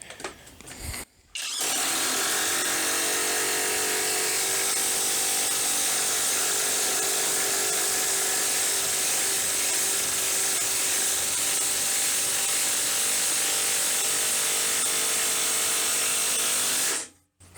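Dedra DED7147 brushless 450 Nm impact wrench drives a 24 cm, 10 mm screw into a wooden beam, a loud continuous whirring hammer that runs steadily for about fifteen seconds after a brief start, then stops abruptly.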